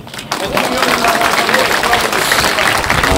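A large crowd at a political rally breaks into sustained applause and cheering, loud and dense throughout after a brief quieter moment at the very start.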